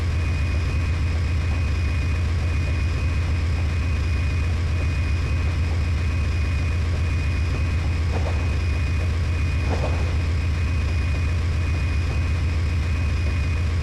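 A C40-8W diesel locomotive engine in the video game Trainz 2022 rumbles with a loud, steady low drone and constant hum throughout, unbroken for the whole stretch.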